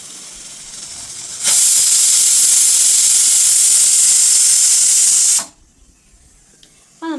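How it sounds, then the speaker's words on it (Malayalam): Pressure cooker steam hissing in a home kitchen: a loud, steady high-pitched jet bursts on, holds for about four seconds, then cuts off abruptly, leaving a quieter room. "അത് വേറെ നല്ല നമ്മുടെ കുക്കർ വീഴുന്ന ആവി വരുന്നതാണ്"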